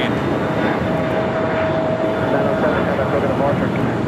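A Boeing 747 jet at LAX gives off a steady, distant engine roar with a faint whine, while a person talks over it.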